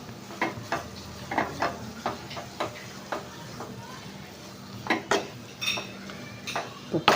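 Metal spoon scraping and clinking against a pan while moong dal halwa is stirred and roasted, irregular sharp knocks and scrapes repeating every half second or so, close and clear over a faint background hum.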